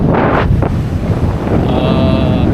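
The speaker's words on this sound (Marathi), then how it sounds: "आता वारा जास्त आहे" Strong wind at Mochemad Beach near Vengurla, roaring continuously and loudly across the microphone with the wash of surf beneath it.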